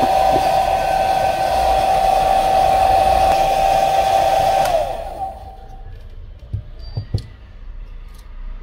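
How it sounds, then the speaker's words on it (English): Hair dryer blowing hot air onto the back cover of a Xiaomi Poco X3 Pro phone, a loud steady whir lasting about five seconds before it shuts off, followed by a few soft clicks and handling taps. "let's go ahead and use our hair dryer to get the back cover off"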